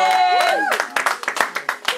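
A church congregation applauds, hand clapping rising in bursts through a warm, reverberant hall, with a voice speaking and some tonal sound early on beneath the claps.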